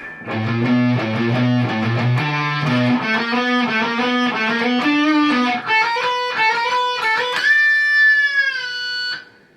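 An electric guitar plays the solo section with distorted tone, rapid repeated picked notes giving way to sustained bent notes near the end, loud and alone.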